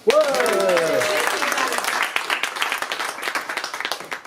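Applause at a slam poetry evening in a Cannes youth and culture centre, a dense burst of clapping from the audience that sustains then thins into scattered claps, with a voice talking briefly at the start.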